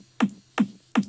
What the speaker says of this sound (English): The first kick sounds like this.